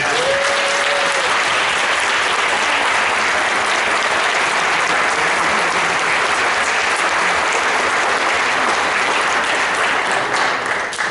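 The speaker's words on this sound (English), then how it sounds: "please let's have a round of applause" Loud, sustained applause from a concert audience after a student concert band performance, a thick wall of clapping that stays even for the whole stretch with no break.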